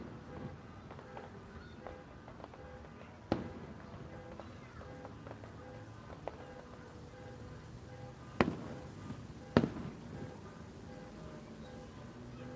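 Distant fireworks pop outdoors in sparse, irregular bursts, a few sharper bangs standing out over a faint, steady background hum.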